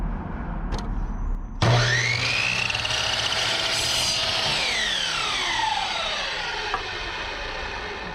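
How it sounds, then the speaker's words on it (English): A chop saw powers up with a sharp whine and cuts through wood, the blade pitch sliding down as it bites in and then rising back as it spins free, loud and close with no talking. "The chop saw works something like this."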